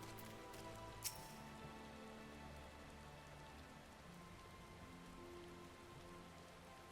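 Steady indoor rain in the video game Final Fantasy XIV patters on a surface in a constant, soft hiss, with a single sharp tick near the start.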